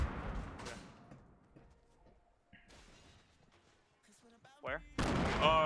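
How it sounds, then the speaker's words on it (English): Grenade blasts and gunfire in a video game, heard as several sharp bursts and booms spread through the stretch, with a loud burst near the end, while players talk over the action. "somebody's throwing grenades at us"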